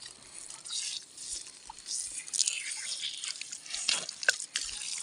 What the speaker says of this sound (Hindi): तो ये पानी जा रहा है खेत की ओर, बिल्कुल फिल्टर होकर के